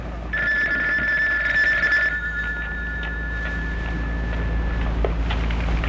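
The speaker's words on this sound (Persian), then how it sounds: "باز این تلفن زنگ زد." A telephone rings with a steady electronic tone for about two seconds, then the ring fades out over constant low background rumble and hiss.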